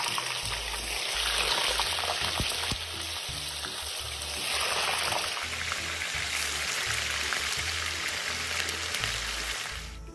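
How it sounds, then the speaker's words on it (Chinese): Dried tofu deep frying in oil heated to high temperature over a strong flame, a loud continuous bubbling sizzle with a low pulsing rumble, steady for about ten seconds and no voices. "锅里预先热油，油热至高温后，再将豆腐干放入，高火油炸"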